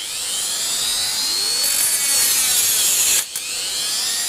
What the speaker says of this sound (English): we're going to cut some used sprue